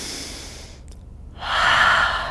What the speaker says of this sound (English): Catch your breath if you're a little out of breath like me. Let's take a couple more breaths.